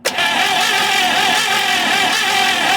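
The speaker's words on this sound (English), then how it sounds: "forgive the sound of things cranking over" A 1953 Buick Special, revived after 30 years in storage, has its engine cranking over: a steady, continuous churning whir with a rough mechanical texture that runs unbroken and fairly loud throughout, with no talk.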